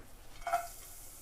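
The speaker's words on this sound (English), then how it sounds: "we're going to have a little sizzle on the grill here" Onions and garlic hitting hot olive oil on a grill, giving a brief hissing sizzle that swells for about half a second and then settles into a faint background fizz.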